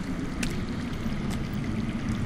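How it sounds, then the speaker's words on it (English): Underground water in a Game of Thrones video game flows as a steady, muffled rushing rumble that stays even and continuous throughout, with no voices. "That's water. I hear water. From underground."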